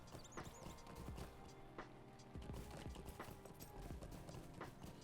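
Horse hoofbeats in a video game, a close rhythmic clip-clop of galloping hooves running throughout alongside faint game effects and a brief whinny-like chirp early on.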